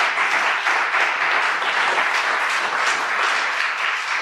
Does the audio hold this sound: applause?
yes